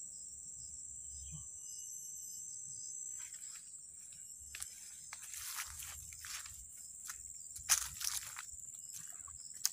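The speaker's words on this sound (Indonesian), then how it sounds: "Suara jangkrik." A steady, high-pitched chorus of crickets chirping outdoors in a forest in Bengkayang, Indonesia, with faint rustling and crunching sounds nearby.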